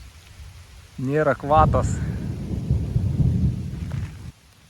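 Steady rain with a thunder rumble outdoors on a cycling trip around Lake Latežeris: a broad, continuous wash of rainfall holds for several seconds while a voice briefly speaks over it, then cuts off.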